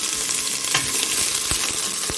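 Steady sizzling of onions frying in hot oil, a constant crackling hiss with occasional sharper pops and faint stirring clatter.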